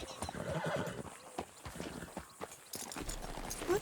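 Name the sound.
horse neighing in Red Dead Redemption 2 video game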